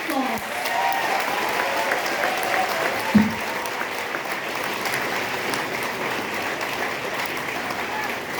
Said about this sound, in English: Kindly give a round of applause